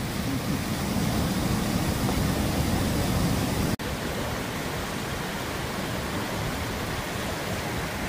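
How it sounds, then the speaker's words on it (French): A waterfall roars in a broad, steady rush of water, loud and continuous throughout, with a brief dropout midway and no voices. "je crois qu'on entend l'eau de la cascade"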